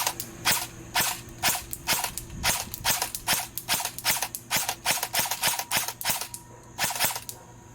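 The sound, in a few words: airsoft gun firing shots with upgraded inner barrel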